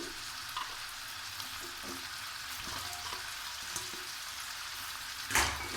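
Flat beans frying in hot oil in a pan for a mola carplet fish curry, a steady close sizzle throughout with occasional small crackles and a louder spatter burst near the end, no talking.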